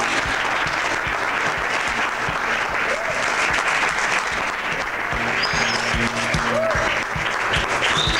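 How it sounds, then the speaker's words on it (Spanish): Sustained, loud applause from a studio audience greeting a Chilean band on a Lima television talk show, a dense steady wash of clapping with faint voices mixed in. "Un aplauso para ellos, por favor"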